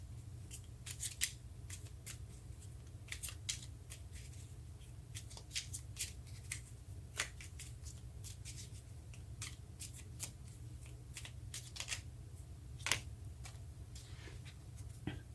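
Tarot cards being shuffled, a quiet run of crisp riffling flicks and taps close up over a low steady hum, with no talking.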